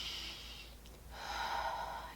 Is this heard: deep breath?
yes